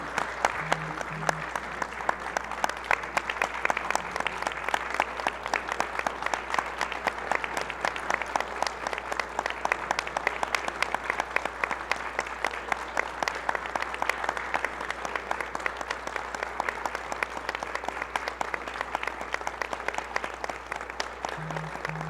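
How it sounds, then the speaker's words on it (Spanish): Sustained applause from a crowd at a weekly assembly, dense steady clapping lasting over twenty seconds at moderate distance, with no speech over it. "yo les pido aplausos."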